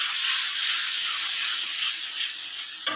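Spice paste frying in a pan just after a splash of water goes in, a loud steady sizzle and hiss running evenly throughout with a brief clatter near the end.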